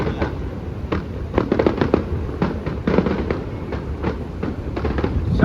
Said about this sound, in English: That one's more likely a neighborhood fireworks.